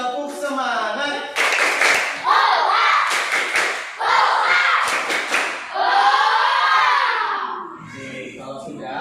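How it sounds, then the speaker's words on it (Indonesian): Schoolchildren in a classroom do a rhythmic spirit clap, sharp clustered hand claps mixed with loud shouted chanting that fills most of the span before fading near the end. "Tepuk semangat."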